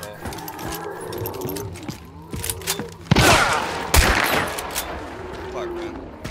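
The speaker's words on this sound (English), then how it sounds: "I'm trying to shoot at the fence, it's not working at all." Gunshots fired at a fence in Hunt: Showdown, a few sharp loud cracks rising out of a busy game soundscape, the strongest shots coming in the middle of the stretch, with voices faintly underneath.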